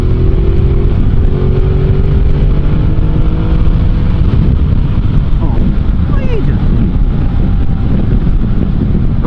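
Ducati Multistrada 1260 GT motorcycle accelerating and shifting up through the gears while riding, its engine roar heavily buried in loud wind buffeting on the microphone, with a rider talking over it.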